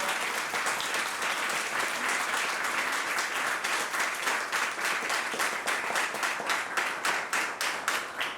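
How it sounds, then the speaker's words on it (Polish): An audience applauds the cast presentation of the musical "Dziewczyny z kalendarza" at Teatr Muzyczny in Gdynia, a steady, dense wash of many hands clapping that holds evenly throughout at a moderate, somewhat distant level, with no talking over it. "To dla was, te brawa."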